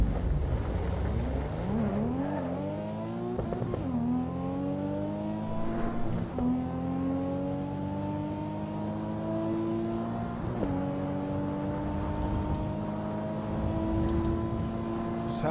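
Race car engine in Assetto Corsa EVO through a full lap, revving up repeatedly with rising whines, dropping sharply at each gear change and climbing again, loud and continuous with no talk.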